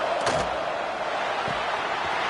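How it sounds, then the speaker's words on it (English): Roaring football stadium crowd noise swells as fans try to inspire the defense before a red zone stop in a college game, a dense continuous wash with a couple of sharp thuds. "here comes the noise. This crowd is trying to inspire this defense to make a big red zone stop"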